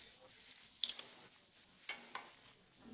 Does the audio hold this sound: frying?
yes